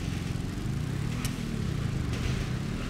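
Lester's motorcycle in GTA V idles with a steady, low engine rumble, continuous and fairly quiet with no talking.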